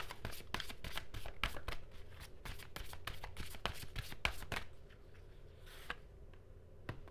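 Tarot cards shuffled and drawn by hand, a fast run of crisp papery flicks and riffles that thins into a few scattered soft taps near the end, close and fairly quiet.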